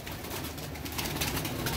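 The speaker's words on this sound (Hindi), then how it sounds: "टॉप क्वालिटी रामपुरी कबूतर ले जी" Rampuri pigeons kept in a loft producing soft low cooing amid a dense, noisy background, brief and fairly faint.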